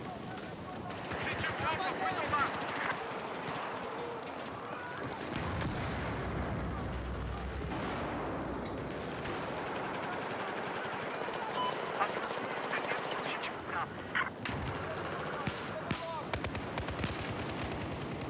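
Battlefield 4 gunfire crackles in rapid bursts, with dense automatic shooting from a suppressed MK11 rifle and explosions filling the whole stretch amid a busy, noisy soundscape.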